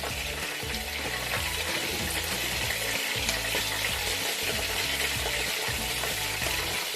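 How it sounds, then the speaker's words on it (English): Mixed vegetables frying in oil and butter for chicken spaghetti, a steady dense sizzle close by with faint stirring, no voices. "So just fry it in the oil and the butter."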